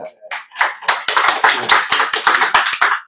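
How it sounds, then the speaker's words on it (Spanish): An audience at a book launch in Bogotá, Colombia breaks into loud, close applause, starting with a few scattered claps that quickly build into brisk, continuous clapping. "un aplauso para mamá"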